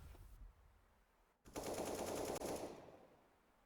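Counter-Strike gunfire in an online tournament match: a single sharp shot, then a loud rapid burst of automatic fire with a brief break, fading out.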